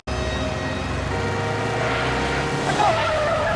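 A motorbike skids with a long harsh screech under roaring engine noise in a tense action scene, loud and continuous, with a rising squeal near the end.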